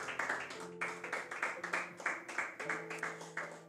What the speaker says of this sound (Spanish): dale un aplauso al Eterno en esta noche